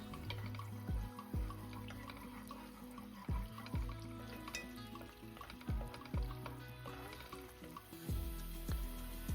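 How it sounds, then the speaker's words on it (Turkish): Tomato paste sizzles softly in olive oil in a pan as it is stirred, with faint crackling and recurring low thumps of a utensil, quiet and close. "bir yemek kaşığı kadar salçamızı koyup kokusu çıkana kadar kavuralım"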